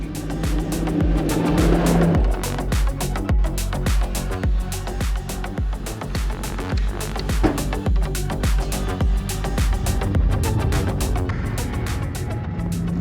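A heavily loaded Toyota Tacoma pickup rumbles along a dirt two-track in Botswana's Kalahari, engine revving and dropping through the corners, with tyre and chassis noise over a constant loud drone.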